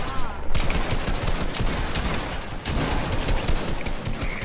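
Rapid, loud gunfire fills a video game shootout, continuous overlapping bursts and single cracks with no pause, close and dense, with a brief voice near the start.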